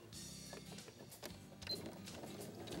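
A domestic sewing machine stitches the arm of a fabric angel-shaped pillow, its motor whirring steadily with a quick mechanical rattle and small ticks throughout, close and moderately quiet.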